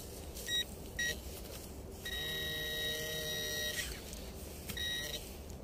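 A metal detector sweeps the ground in a forest at dusk, giving two short electronic beeps, then a sustained tone of nearly two seconds and one more brief beep over steady outdoor background noise.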